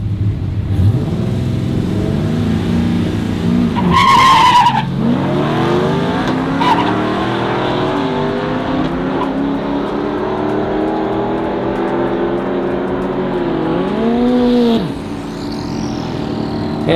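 A truck on a drag strip makes its final pass of a week-long racing event, the engine roaring loudly and continuously as it revs and climbs through gears, with brief tire squeals and a sharp surge near the start.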